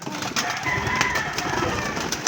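Pigeons kept in a backyard loft, with dense bird calls and cooing filling the air at a steady, fairly loud level throughout.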